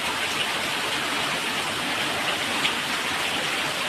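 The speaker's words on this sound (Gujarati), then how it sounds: "જો વરસાદ ફૂલ ચાલુ છે" Heavy rain pours down on a street of shops and a handcart in a dense, unbroken hiss that stays loud and even throughout, with no voices.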